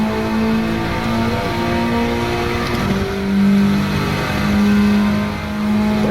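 A modified Honda Civic Type R FK2 accelerates hard on a track lap, its engine revving loud and close through rising gear pulls with brief dips at shifts, no talk.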